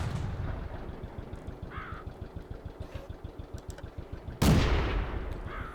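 Tank cannon fire in the World of Tanks game, a French Renault FT, sounds as one sharp loud blast late in the clip over a rhythmic rattling tank engine.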